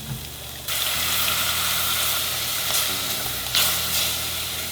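Chicken pot pie filling of flour and broth sizzles steadily in a hot pan while being stirred, a close, continuous frying hiss with brief scraping swells from the spoon.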